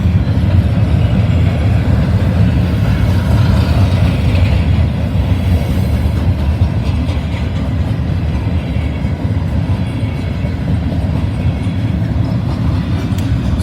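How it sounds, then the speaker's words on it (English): A Norfolk Southern gondola freight train rolls through a crossing in Sharonville, a loud, continuous close rumble of heavy wheels and cars with faint clickety-clack throughout. "Looks like we got the gondola train today."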